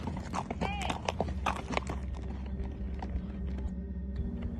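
Hooves clip-clop in an uneven rhythm while a horse whinnies briefly, with voices and outdoor noise underneath.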